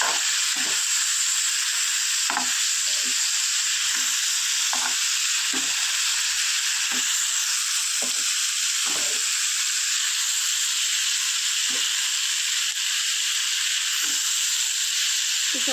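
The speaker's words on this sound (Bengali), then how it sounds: "শুকনো শিঙি মাছটা দিয়েও বেশ কিছু সময় ধরে ভেজে নেবো লাল করে" Dried singi fish fries in hot oil until reddened, giving a loud, unbroken hiss throughout, with soft low bumps from the pan recurring every second or so.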